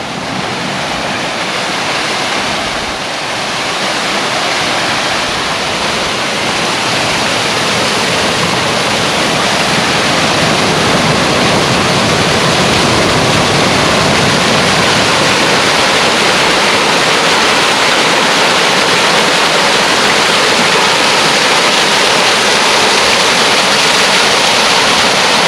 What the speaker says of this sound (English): Hey, we got a little waterfall here.